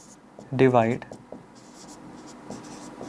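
A pen or marker drawn across a classroom board during a maths lesson gives one brief, squeaky stroke near the start, followed by faint scratchy contact sounds.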